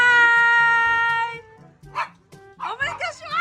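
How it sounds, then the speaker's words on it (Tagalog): A dog barks a few times in a home in the Philippines, short sharp yelps after a sustained tonal sound fades, with excited voices talking around and over the barks. "yung aso"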